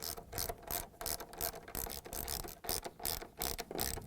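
Rapid ratcheting clicks from a tool driving 10mm screws into a Samsung refrigerator upper cam riser, a steady close-up rhythm of quick mechanical bursts with no talk.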